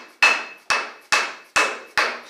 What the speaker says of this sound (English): You get your dead blow hammer. You don't want to hit it too hard. Give her a couple taps.